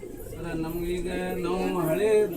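Close, low pigeon coos from a breeder's loft in Dharwad roll on steadily beneath someone talking nearby.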